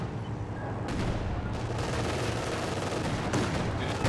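Machine gun fire rattles through a dense, continuous roar of battle in a Company of Heroes 2 2v2 match, steady and loud with no pauses.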